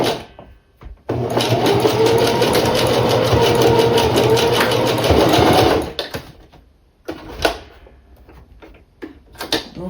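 A sewing machine stitches a wig in one sustained loud run of rapid mechanical needle chatter for about five seconds, then stops, leaving scattered clicks and handling noises.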